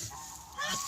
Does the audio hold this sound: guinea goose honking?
yes